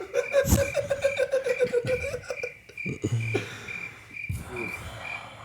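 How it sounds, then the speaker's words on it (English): Cricket-like chirping trills repeat steadily at a high pitch, with a few low croaky thuds and chuckling bursts mixed in. "I just leave it on crickets or boos"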